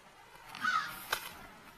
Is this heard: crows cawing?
yes